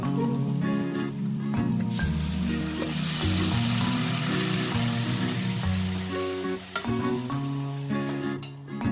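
Curry leaves hit hot oil while tempering dal made with taro stalks, giving a loud continuous sizzle and crackle close by. Stirring scrapes run under the spatter. Nobody speaks.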